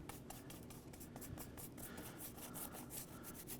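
A paintbrush lightly scrubs white acrylic paint onto a winter landscape painting, a quiet, close, rhythmic scratchy rubbing with repeated short strokes.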